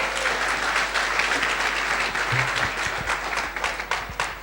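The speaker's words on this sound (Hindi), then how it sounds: "जानना चाहेंगे तो जोर से ताली बजाओ" A seminar audience claps together in sustained, dense applause, loud and fairly close, holding steady for a few seconds before tapering slightly at the end.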